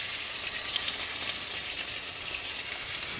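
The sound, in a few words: chicken cutlets sizzling in hot oil in a pan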